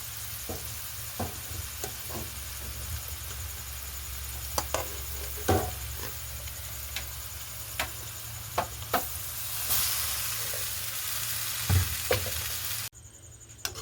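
Noodles stir-fried in a pan, a steady close sizzle with repeated sharp knocks and scrapes of a utensil against the pan at an uneven rhythm, no talking.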